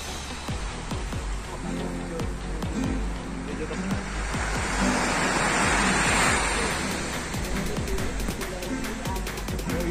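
Ocean waves surge and wash onto Teluk Hijau (Green Bay) beach in Banyuwangi in a close, steady roar, swelling midway, with crackling surf and wind buffeting the microphone.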